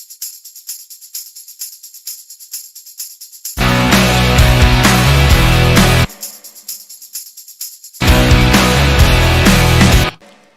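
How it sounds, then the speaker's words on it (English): A looped tambourine taps out a quick, steady jingling pattern alone. Twice it is swamped by a loud, full burst of sound lasting a couple of seconds before the bare tambourine pattern returns. "we're going to just check it out quick. Angel's Tambo Loop"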